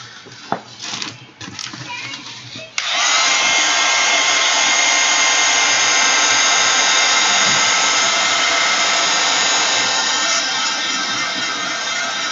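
Brief rustling and small handling noises come first, then a hair dryer switches on to dry shimmery craft paint, blowing a loud, steady, close whirring roar until the end.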